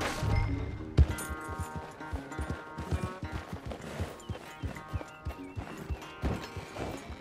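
In Red Dead Redemption 2, a horse's hooves clip-clop in an uneven rhythm over the ground, close and fairly loud, with a few harder knocks and occasional clinks of tack.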